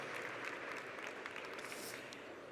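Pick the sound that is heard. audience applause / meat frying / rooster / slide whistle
audience applause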